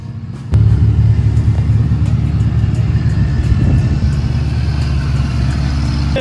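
Dirt University race car engines start up during a quick shakedown and settle into a loud, close, rough rumbling idle that holds steady with no talk.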